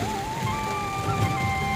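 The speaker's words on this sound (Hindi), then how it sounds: "बारिश का जोर है बारू जोर।" Heavy rain pours as a dense, steady hiss close by, with a faint tonal hum running underneath through the short stretch.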